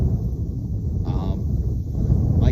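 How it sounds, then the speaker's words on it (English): Low, rumbling wind of about 15 mph buffets the microphone continuously outdoors on a coyote hunt, with a brief faint voice-like sound in the middle. "The wind's blowing about 15 miles an hour."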